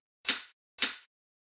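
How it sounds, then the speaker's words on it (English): A live-style hi-hat sample played alone with a loose, organic feel: two crisp, bright strikes about half a second apart, each decaying quickly into silence. "So basically, I just have like this live style hi-hat, I guess."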